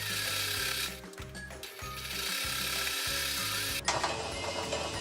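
A sewing machine stitching a straight seam along the waistband of a lined circle skirt, giving rapid rhythmic mechanical clatter in repeated bursts with brief pauses, close and fairly loud.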